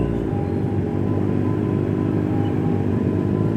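A steady, dense rumble of traffic idling and creeping at a red light in Gunung Sahari fills the air, engines droning together without a break and no voices standing out.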